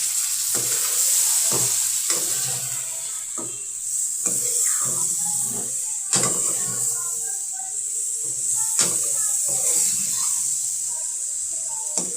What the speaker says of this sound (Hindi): अब हम इसे मसाले को अच्छे तरीके से इसकी भुनाई करेंगे